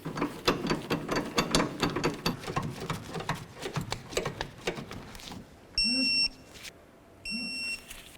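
A ratchet tightens nuts on the rear sway bar links of a 2007-12 Volvo S40, giving a run of close, rapid clicks followed by two short, bright electronic beeps.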